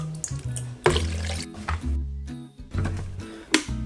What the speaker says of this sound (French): On reprend notre bouillon et on va tout simplement mouiller à hauteur.